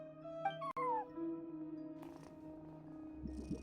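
A cat meows near a front desk in the video game Genshin Impact, a couple of short mid-pitched calls against a steady ambient hum, with no speech.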